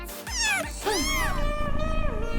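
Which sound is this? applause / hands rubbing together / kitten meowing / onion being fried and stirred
kitten meowing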